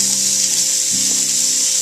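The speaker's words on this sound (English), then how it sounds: "I'm going to throw the bacon in there" Bacon sizzles and spits in a hot pot while beef bourguignon is being prepared, a loud, steady frying hiss close up, with a faint low hum underneath.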